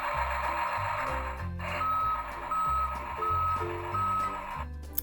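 A Tonka toy truck sounds its reversing alarm, a loud, steady run of electronic beeps repeating at an even pace over a looping low electronic tune, close by.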